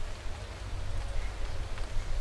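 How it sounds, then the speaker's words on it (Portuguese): Steady rain patters throughout a wet race in the motorsport management video game Motorsport Manager, a continuous even hiss with low rumble beneath and no talk. "Chuva, galera."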